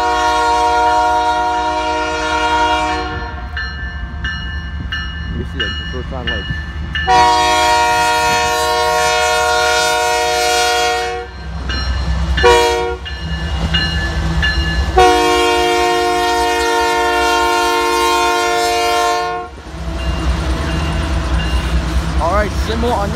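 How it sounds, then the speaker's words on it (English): A CSX freight train rumbles past on Lake Avenue in Blasdell, New York, while its horn sounds in several long, loud blasts separated by short gaps; someone speaks briefly over the noise. "we got CP train heading by"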